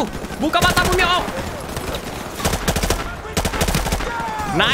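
Gunfire rattles in bursts in Call of Duty Modern Warfare Remastered, loud repeated shots clustering in several volleys, with voices talking in between.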